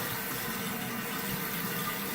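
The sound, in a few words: gravity flush toilet tank refilling through fill valve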